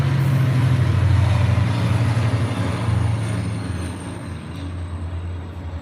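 A train rumbles past on the tracks near Santa Clara Tower, a loud steady low roll with faint high rail squeal that slowly fades, with no talking.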